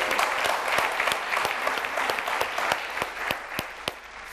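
A studio audience on the Turkish TV word quiz Kelime Oyunu applauds, with a soft wash of clapping punctuated by steady, rhythmic sharp claps keeping time, moderately quiet and without talk.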